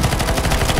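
Rapid automatic gunfire in CS:GO Zombie Escape on a Halo CE map, players shooting at a boss, a dense unbroken burst of close, loud shots.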